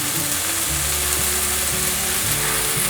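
Red shimeji mushrooms and baby corn stir-fry in a hot pan, a loud, continuous sizzle with soft scraping of the ingredients being tossed.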